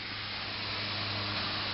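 A steady, continuous hiss of air escaping from a car tire, close and unbroken, with a low hum underneath.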